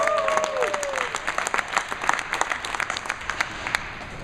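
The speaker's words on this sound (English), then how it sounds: "there'll be a big cheer coming out for this" At a bowling tournament's handicap final, a crowd applauds with dense, sustained clapping, mixed with scattered cheering and a whistle near the start.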